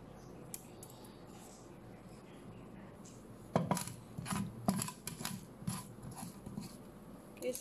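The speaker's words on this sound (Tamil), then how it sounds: "ஸோ தாளிப்பு போட்டுருவோம்." Spices for a granny-style egg curry drop into hot oil and burst into loud, irregular crackling and spitting after a quiet start, continuing in uneven close-up pops with no talking.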